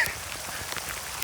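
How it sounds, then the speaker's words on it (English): Steady outdoor rain pours down in a continuous broadband wash for about a second, close and even, with scattered drops and no voices. "ran like 3 steps and it started pouring rain."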